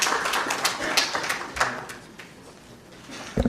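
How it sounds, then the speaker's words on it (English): Audience applause welcoming a speaker to the stage at a Kenyan political conference, a busy patter of many hands clapping at moderate loudness that thins and fades over a few seconds. "Please welcome Mayaka with a round of applause."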